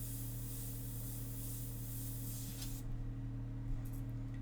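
An airbrush sprays India ink in a steady, quiet broadband hiss that runs for about three seconds, then cuts off, leaving a low background hum with a few faint clicks.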